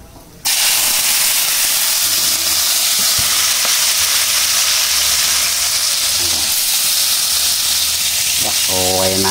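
Garlic, shallots, tomato, shrimp paste and chili, with salt, galangal and bay leaves, drop into a hot pan and burst into a loud, steady sizzle that holds without a break, with a faint voice and a light clink near the end.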